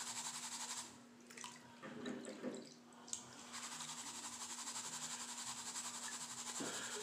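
Dirty water poured and splashing during gold paydirt panning: a faint steady running trickle with a few brief louder splashes and sloshes in between, quiet and close, with no talk.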